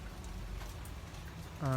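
Rain falls steadily on a rainy day around a flowering Hoya erythrostemma plant in Phang Nga, Thailand, a soft continuous patter ending with a short tonal sound at the close.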